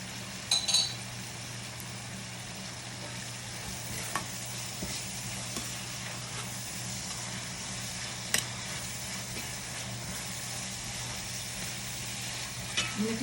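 Four garlic cloves sizzling in a pan, a steady soft frying hiss with occasional clinks and scrapes of a utensil stirring against the pan, fairly quiet and with no talking.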